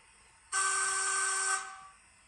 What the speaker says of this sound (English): Function 2, we've got a playable whistle.